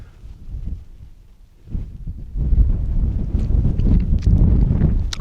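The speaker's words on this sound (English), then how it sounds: "It's getting a little windy, a little chilly" Outdoor wind during an overlanding trip through Utah and Arizona, a low rumbling buffet on the microphone that is moderate at first, then swells louder and gustier after about two seconds and stays strong.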